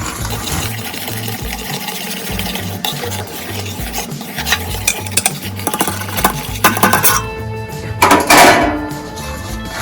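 Mawa being worked into hot sugar syrup in a pan for pedas produces loud, continuous scraping and stirring strokes of a metal spoon, with a low hum under it and sharper clatters near the end.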